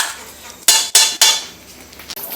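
A metal lid clanks down onto a cooking pot of kaldereta made with beef bones, carrots and potatoes: three sharp, bright clatters in quick succession, close and fairly loud, followed by a faint ringing tail.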